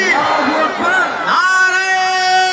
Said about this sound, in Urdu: نعرہ لگائیے, نعرے تکبیر